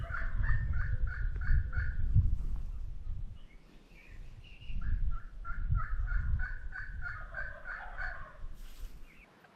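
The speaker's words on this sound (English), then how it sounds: "those hens, they just started, man, cutting up" Wild turkey hens call at daybreak during a hunt, a series of repeated rhythmic yelps and clucks in quick runs, mid-distance, with low rustling and ambient noise underneath.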